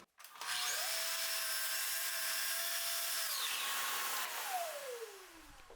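A power miter saw spins up and slices a reverse miter through a wooden trim piece, a loud whining cut held for several seconds before the blade winds down, heard up close.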